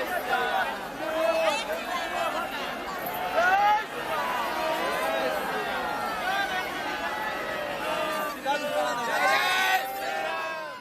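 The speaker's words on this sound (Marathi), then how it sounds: "राम मंदिराच्या परिसरात भाविकांची मोठी गर्दी सध्या पाहायला मिळते" A large crowd of devotees fills the grounds of the Ram temple in Ayodhya with a dense, continuous babble of many overlapping voices and occasional shouts, close and unbroken throughout.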